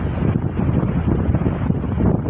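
Strong wind roars steadily and loudly across the microphone outdoors near swaying neem trees, a dense continuous buffeting rumble with no voices.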